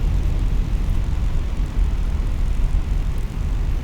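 An airliner decelerating on the runway at about 70 knots, just after its thrust reversers come off, gives a steady, loud broadband roar of engines with no pauses.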